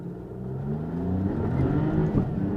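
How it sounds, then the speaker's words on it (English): A 2022 Maserati MC20 sports car engine revs and climbs in pitch as it accelerates hard in a tunnel, the sound loud and close with a slightly boomy, enclosed echo. "Let's give a little acceleration to the tunnel."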